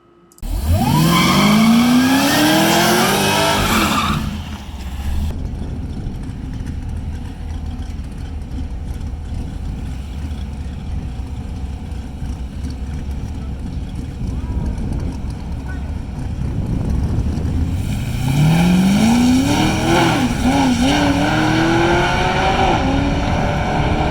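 A drag car fitted with a ported supercharger makes a quarter-mile run. Its engine screams up through rising gear pulls at the start, holds a loud steady roar, then sweeps up again near the end. A voice is heard at times.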